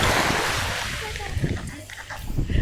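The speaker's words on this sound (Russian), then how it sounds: "ветер дует и сдувает море вот в ту сторону, в сторону порта" Windy sea waves near Antalya, with blustery wind rumbling against the microphone over a washing surf and splashing water, loud and close, while someone talks over it.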